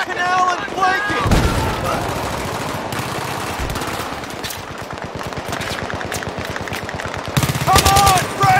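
Enemy machine gun firing in the Battlefield 3 video game, long rapid bursts of loud, dense gunfire with booming impacts, running almost continuously under occasional shouted voices.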